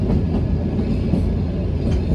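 The Shivalik Deluxe Express toy train on the Kalka–Shimla line rumbles along in a steady, close, low roar without talk.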